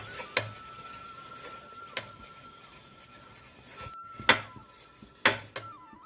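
An onion rubbed across a hot dosa pan, a faint sizzle with a few sharp scraping strokes against the griddle, close and quiet with no voices.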